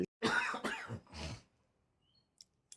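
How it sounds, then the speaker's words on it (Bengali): Three harsh coughs in quick succession ring out close and loud, followed by near silence with a couple of faint clicks, amid a wedding gathering. "চারিদিকে হাঁচি কাশি, কেউ হাঁচছে কেউ কাশছে"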